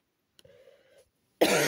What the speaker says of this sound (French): le fait de parler, ça me fait tousser